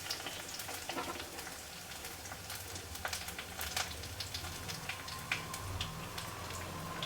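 Onions sizzle and crackle in hot coconut oil in a pan, a steady dense frying hiss with scattered sharp pops, close and moderately quiet with no talking.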